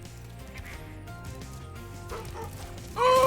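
Enemy dog in Spyro Reignited Trilogy gives short yapping barks over steady game music and effects, ending with a louder burst near the end.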